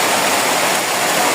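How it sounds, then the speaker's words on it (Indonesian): Heavy rain pours down outdoors during a storm with strong wind, a loud, dense and unbroken hiss filling the whole short stretch with no voices. "Hujan."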